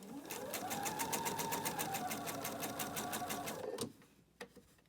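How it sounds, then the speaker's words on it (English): A sewing machine runs steadily as it stitches a fabric seam with a quarter-inch allowance, a close, fast rhythmic whir and needle tapping that stops near the end and is followed by a couple of faint clicks. "I'm stitching with 1/4 of an inch seam allowance."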